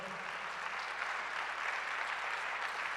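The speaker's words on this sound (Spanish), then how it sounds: "Damos un aplauso al Señor" Church congregation applauding during a sermon, a steady wash of many hands clapping at moderate distance, even and sustained throughout with no speech over it.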